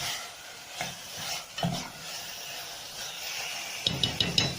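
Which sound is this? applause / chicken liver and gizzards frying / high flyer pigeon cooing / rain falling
chicken liver and gizzards frying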